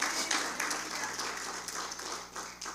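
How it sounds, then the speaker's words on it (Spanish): A church congregation applauds Jesus Christ during a Spanish-language sermon; dense, sustained clapping with a steady, slightly pulsing texture, moderately distant and continuous throughout. "Dele fuerte el aplauso al Señor Jesucristo"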